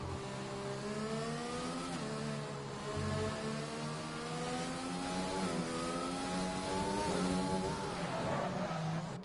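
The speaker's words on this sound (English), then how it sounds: "So there's currently 5 cars out on track. They're doing laps." Several racing cars lapping the track in F1 2020, engines droning and revving steadily at mid distance, pitches rising and falling as the cars pass and shift, with no talk over them.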